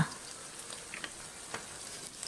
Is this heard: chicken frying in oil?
yes